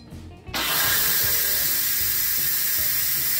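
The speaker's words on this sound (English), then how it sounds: "Here comes the steam release." Pressure cooker releasing steam after cooking risotto, a sudden loud continuous hiss that bursts in and holds steady, close by.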